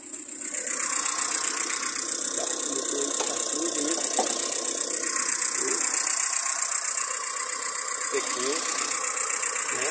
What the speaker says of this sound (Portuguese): Vou mostrar o motor aqui.